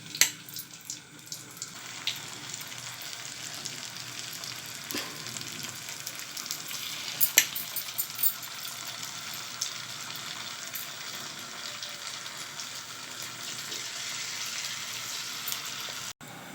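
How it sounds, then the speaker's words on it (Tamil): Maida-coated marinated paneer frying in hot oil: a continuous close sizzle and crackle with occasional sharper pops and clatters, steady throughout with no voices. "பன்னீரை நம்ம பொரிச்சு எடுத்துக்கலாம்."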